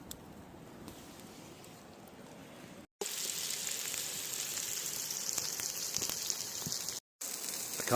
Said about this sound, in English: Now I need some embers to cook steak